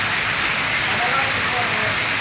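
Steady rain pouring down in a Punjab village, a dense continuous hiss filling the air close by, with a faint voice beneath.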